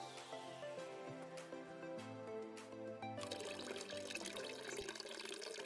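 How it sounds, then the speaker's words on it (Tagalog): A bathroom faucet runs steadily while someone brushes their teeth, a continuous stream of water heard over soft background music, with no talking. "Isara ang gripo habang nagsisipilyo."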